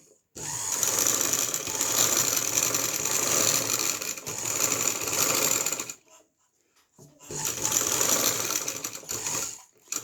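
Sewing machine stitching the lining of a kurta, running in two long loud bursts with a short pause between them.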